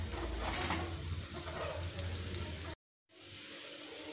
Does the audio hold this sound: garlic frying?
yes